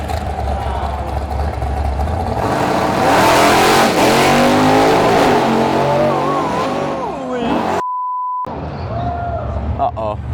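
A Buick drag car at the Buick GS Nationals launches hard and accelerates, its engine revving up loudly and sweeping upward as it pulls away, with voices of spectators nearby and an abrupt cut near the end.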